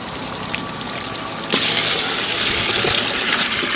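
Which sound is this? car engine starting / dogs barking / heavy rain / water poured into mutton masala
water poured into mutton masala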